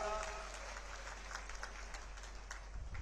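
A crowd at a BJP election rally in Rewa, Madhya Pradesh claps for the party president, a dense wash of applause running under a loud amplified voice.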